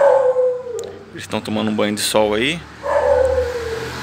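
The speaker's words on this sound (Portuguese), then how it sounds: "Desculpa o barulho do cachorro aí" A neighbour's dog howling and barking from next door, drawn-out wavering howls mixed with short barks, fairly close and loud as someone speaks over it.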